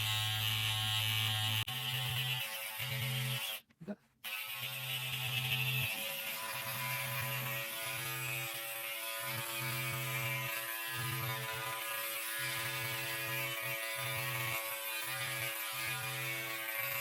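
An electric trimmer buzzes steadily while trimming along the edges of a rug, a continuous mechanical drone that cuts out briefly near the start before resuming at an even level.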